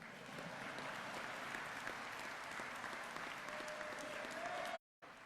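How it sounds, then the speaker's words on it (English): An audience at a sanitation department graduation and promotion ceremony claps steadily, a dense patter of many hands that continues until the sound abruptly cuts out near the end. "This is where you guys are supposed to clap."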